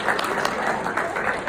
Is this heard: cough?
no